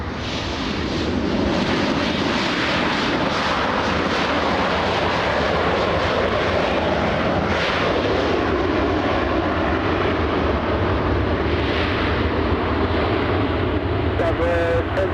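Jet airliner on the runway at LAX, a loud continuous engine roar filling the whole stretch, with air traffic radio voices talking over it.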